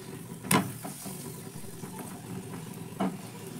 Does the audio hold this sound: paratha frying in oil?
yes